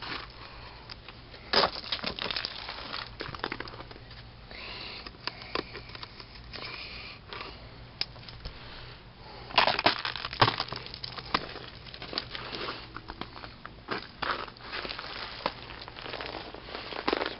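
Ice crunches and crackles under Smokey the dog during a Tennessee ice storm, with irregular nearby crushing, pattering and sniffing bursts that grow louder midway.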